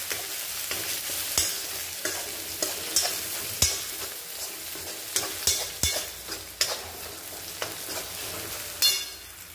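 Ginger-garlic paste frying with onion in a kadai over low gas for dal tadka, a steady sizzle broken by repeated sharp scrapes and clicks of a spatula stirring against the metal, close and alone.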